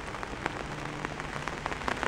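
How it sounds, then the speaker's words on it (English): Steady rain falling on a late-November day, a dense, even patter with scattered sharper drops, fairly quiet and continuous with no voices. "It's raining and we did leaves yesterday"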